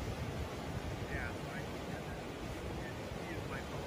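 Rushing floodwater from California flash floods roars as a loud, continuous broadband wash, steady and close, with wind buffeting the microphone and only faint traces of voices.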